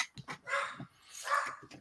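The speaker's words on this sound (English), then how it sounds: "And there goes the dog." A dog barks several times in a loose sequence, short yips and longer strained barks at moderate distance, with no speech over them.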